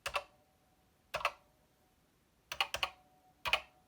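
Sparse keystrokes on a VIC-20 computer fitted with a PET keyboard, single and double clacks separated by pauses, each followed by a faint metallic ring.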